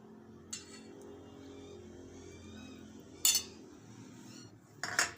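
A spoon stirs red chilli raita after lemon juice is added, giving a few sharp metallic clinks against the bowl spaced over a quiet background.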